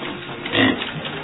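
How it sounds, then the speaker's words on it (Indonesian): A litter of eleven piglets jostles for feed on a pig farm, a short burst of close grunting and squealing over busy noise. "pakan yang diberikan langsung diserbu oleh satu peranakan anakan babi yang berjumlah 11 ekor ini"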